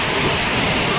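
Floodwater rushing from a lake breached by heavy rain in Santalpur makes a loud, dense, unbroken roar of water, with a voice mixed in underneath.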